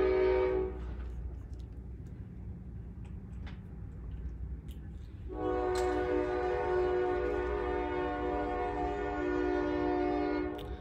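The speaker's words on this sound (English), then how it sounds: "Sorry, the train's loud." A loud train passes close by, its horn sounding in long sustained blasts: one brief blast at the start, then a steady roar with rumbling rail noise, then a second, longer horn blast that carries through to the end.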